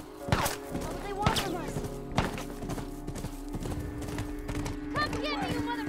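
Horse hooves in The Last of Us Part II, a steady clip-clop of galloping under game music and character dialogue, with a few heavier thuds and a whinny-like cry near the end.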